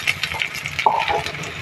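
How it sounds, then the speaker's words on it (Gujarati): Butter sizzles in a hot pan while a lachha paratha fries, a soft steady crackle with faint scraping and stirring clicks close by. "પછી આપણે અહીંયા બટર નાખી દઈશું।"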